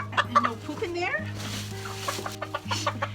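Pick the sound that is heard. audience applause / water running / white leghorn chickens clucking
white leghorn chickens clucking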